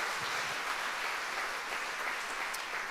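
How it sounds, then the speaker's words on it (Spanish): A church congregation applauding during a worship service, a steady, fairly quiet clatter of many hands clapping continuously, heard with no voices over it. "Dele fuerte ese aplauso al Señor"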